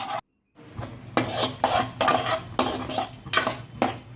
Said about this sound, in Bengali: এইবার লো হিটে রেখে মশলাটা আমি একদম নিভু নিভু আছে কষিয়ে নেব